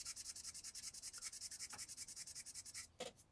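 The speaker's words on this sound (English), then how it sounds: "what you're doing now is you're making the plastic smooth again and get rid of the scratches" Plastic scale-model truck parts for a 1/25 Peterbilt 359 kit being sanded with 600 grit sandpaper: a quick, even run of about two dozen close scratchy strokes, alone and fairly quiet.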